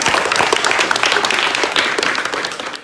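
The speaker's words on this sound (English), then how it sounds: "Round of applause." Lively applause and clapping from a small crowd at a LEGO building competition in a Brentwood, Tennessee shop, close and continuous, fading slightly toward the end.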